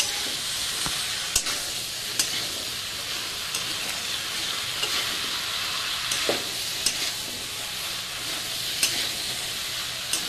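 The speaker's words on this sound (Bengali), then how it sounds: "কষা নেওয়ার পর এই যে কচুরলতি ছেড়ে দিয়েছে।" Taro stolons sizzle steadily in hot oil in a pan after the spices are cooked down, a constant hiss broken by occasional sharp clicks from stirring.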